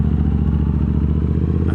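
A Triumph Bobber motorcycle engine idles at too-high revs, a steady throbbing drone with a dense low rumble, loud and close, with no voices over it.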